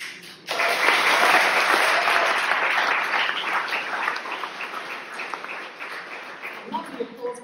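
Sustained audience applause breaks out during a political speech about sending local representatives to Canberra, starting abruptly and holding loud and dense before thinning into scattered claps near the end.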